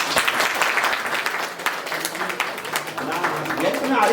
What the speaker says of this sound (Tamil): மிஸ்டர் பாஸ்கருக்காக நீங்கள் ஒரு கைத்தட்டணும்.